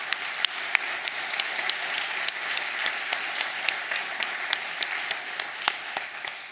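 An audience at a distinguished alumni awards event applauds presidential ambassadors, the clapping steady and moderately loud with a few sharp individual claps standing out.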